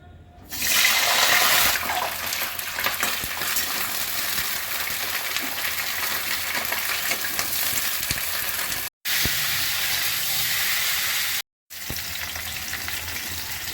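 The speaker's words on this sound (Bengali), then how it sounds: "সর্ষের তেলে রান্না করব। প্রথমেই আমি ফুলকপিগুলো ভেজে নেব।" Cauliflower florets frying in mustard oil, a loud, steady, close-up sizzle that runs almost throughout with two brief cut-outs, and no talking.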